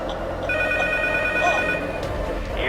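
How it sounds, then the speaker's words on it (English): A phone rings in the P.T. horror video game, a single thin electronic ring lasting about a second and a half over a low, murky ambient rumble. "The phone rings."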